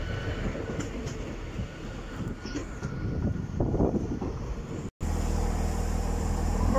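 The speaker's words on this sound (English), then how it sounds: "847 is now off with the 12, with the late running 12:30 East Midlands Railway service to Nottingham" An East Midlands Railway Class 158 diesel unit pulls out of Bulwell station on a late-running service to Nottingham. A steady rumble and engine drone builds, followed by a brief cut and a louder, closer stretch of running noise.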